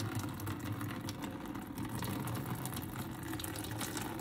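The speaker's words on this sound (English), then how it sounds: "I just like to water it a little bit." Water poured steadily into an orchid's pot while watering it, a soft continuous trickle and splash with no talk.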